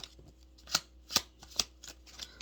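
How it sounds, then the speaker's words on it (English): Tarot cards being shuffled by hand, a few soft riffling bursts spaced about half a second apart, quiet and close with no talking. "Let me shuffle a bit more."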